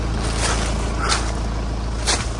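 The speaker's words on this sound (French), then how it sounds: "C'est ça l'eau qu'on entend" Steady broadband wash of water from a pond at an abandoned countryside house, constant and fairly loud with no clear breaks, a faint tonal hum underneath.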